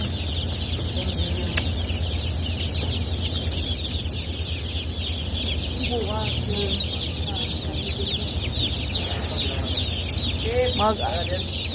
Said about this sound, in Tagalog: Gandang sisiw. Pang klase A.